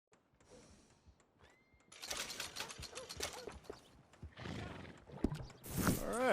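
A horse in the Red Dead Redemption 2 video game gives a sharp whinny amid steady clip-clop of hooves and some mechanical clicking, the neighing growing louder and closer toward the end.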